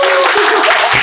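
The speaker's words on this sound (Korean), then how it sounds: "큰 박수로 맞이해 주세요" Brief burst of audience applause at a lecture hall seminar, dense loud clapping from a crowd, with a voice briefly audible.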